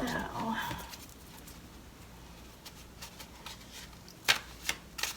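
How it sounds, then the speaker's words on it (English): Tarot cards are shuffled with soft riffling and a few sharp snaps near the end, close by, after brief speech at the start. "Let me just go ahead and shuffle these."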